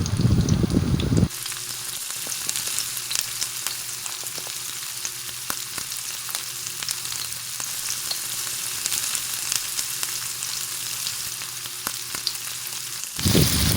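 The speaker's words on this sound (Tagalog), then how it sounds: "isusunod na natin ang sibuyas hanggang sa ito ay maging transparent" Chopped onions sauté in hot oil with garlic in a pan for a squash and papaya coconut stew, giving a steady close sizzle that runs evenly throughout, with a louder burst at the very start and end.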